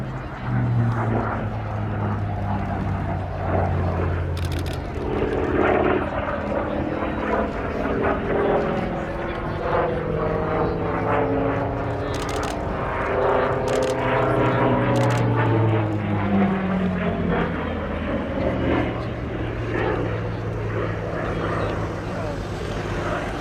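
Piston-engine propeller aircraft flying a display at the Cosford airshow, a steady droning engine tone with shifting pitch as it passes, continuous and fairly loud, with an announcer's voice over the public address.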